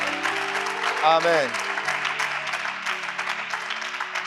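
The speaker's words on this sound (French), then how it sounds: "tu vas donner une bonne acclamation à Jésus" Congregation at a French-language church devotional applauding and cheering in a steady, dense wash of clapping, with a voice speaking briefly over it near the start.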